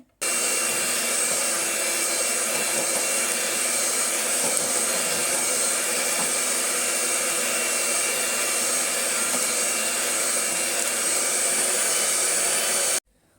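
Electric blender whirring steadily at high speed through a chocolate ice cream mix of whipping cream and chocolate, a loud continuous drone that holds unbroken for about twelve seconds with no talking.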